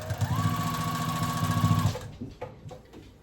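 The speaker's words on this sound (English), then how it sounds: "I'm just going to sew this down right here." A sewing machine stitching down fabric scraps for a crazy quilt block, a loud fast rhythmic whirring run for about two seconds, then stopping, followed by a few quiet handling clicks.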